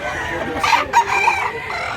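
A rooster crows once, loud and close, a drawn-out rising and falling call over faint background clucking.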